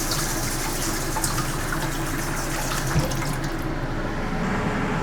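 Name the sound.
water poured onto a plate in a rice cooker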